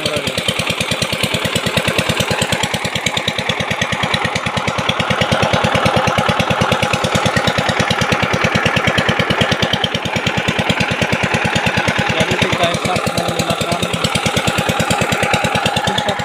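A small suction machine engine at a rocky tin mine runs with a loud, rapid, steady pounding beat, close and unbroken for the whole stretch.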